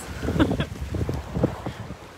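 Wind buffets the microphone on a beach in gusty, uneven rumbles, loud and close, and continues throughout the short stretch.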